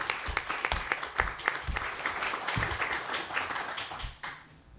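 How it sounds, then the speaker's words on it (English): Conference audience applauding for a guest speaker at a law students' event on the death penalty, a dense, moderately loud patter of clapping with some sharper individual claps that thins out and fades near the end. "how about another round of applause for Alan Dershowitz?"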